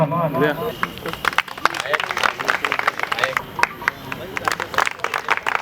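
A crowd at a community meeting of a goldsmith society claps in a hall, a busy crackle of many hands mixed with voices and murmuring, a speaker talking over it at the start.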